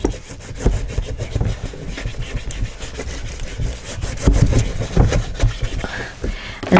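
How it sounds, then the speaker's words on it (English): A paper card strip is burnished down by hand during card-making, giving a continuous scraping, rubbing sound with uneven strokes, fairly close and alone. "just burnish that down"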